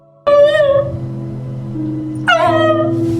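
A distressed dog gives two long, high whimpering howls, close and loud, each rising sharply and then trailing off in a mournful wail over a low background drone.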